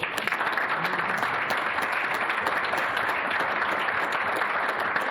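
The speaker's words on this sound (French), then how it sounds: "on peut l'applaudir encore une fois" Audience at a municipal council meeting in Sarreguemines applauds continuously, a dense, fairly loud patter of clapping that holds steady throughout.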